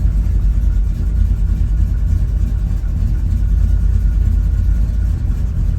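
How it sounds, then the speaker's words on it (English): A 1972 Chevrolet K10 4x4 pickup engine runs steadily through dual exhaust, a loud, close, continuous low rumble with no talking over it. "Got good sound, dual exhaust."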